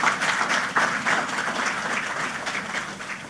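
An audience at a 2023 youth economy investment forum applauds its partners, a steady, dense wash of many hands clapping that runs throughout without pause.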